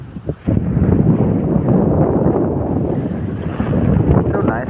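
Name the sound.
strong wind on beach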